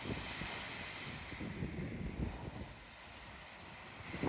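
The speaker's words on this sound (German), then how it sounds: "Auf der einen Seite bläst der Wind kräftig." Strong wind roars steadily with low, gusty buffeting rumbles that rise and fall, a broad hiss spread over the whole stretch, on a boat in wet, gusty weather in southern France.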